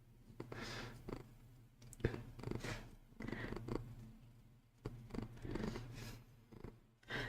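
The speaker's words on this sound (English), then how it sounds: "Can you hear the purrs?" A domestic cat, roughly 12 years old, purrs softly and steadily in close, quiet surroundings, a low rhythmic rumble with faint rustling and small handling noises.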